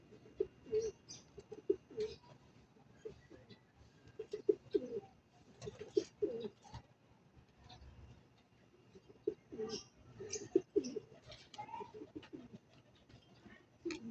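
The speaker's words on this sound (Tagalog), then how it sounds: "Yan na, padapo na yung aking mga ibon na pinalipad." Racing pigeons landing on a house roof, soft cooing and fluttering in scattered bursts nearby, fairly quiet against an otherwise still background.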